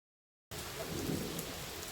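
Steady rain falls outside on the day of an autocross event, a continuous broadband hiss that begins abruptly and stays even, with a low rumble underneath that may be distant thunder.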